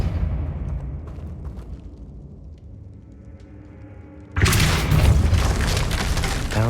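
A Depulso spell blast in the Hogwarts Legacy video game lands as a sudden loud boom with a sharp onset, cutting through low game ambience and leaving a dense, roaring burst that holds steady afterward.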